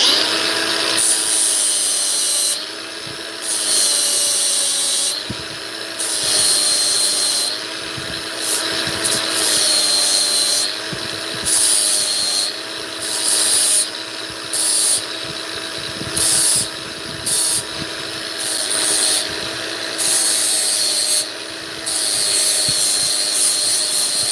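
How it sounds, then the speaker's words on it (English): Cordless grinder cutting a mostly plastic RC car body for a Vanquish VS410, heard as loud, close whining bursts that start and stop repeatedly, with a high-pitched cutting rasp in each burst. "just grab the cordless grinder and, you know, use it in the house. It's mostly plastic anyway"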